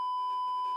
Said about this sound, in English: I'll beep out these names too real quick.